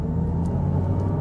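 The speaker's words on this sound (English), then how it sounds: "So let's choose evolution sound right here. Listen to this, it's gonna sound like a spaceship," A Hyundai Ioniq 5 N electric car running its synthetic Evolution drive sound, a steady low droning hum with a faint airy tone above, continuous and close inside the cabin.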